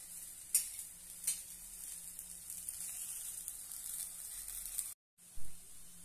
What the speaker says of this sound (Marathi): आता आपण दुसरी साइड पलटून घेऊया आणि छानपैकी अशी खरपूस भाजून घेऊया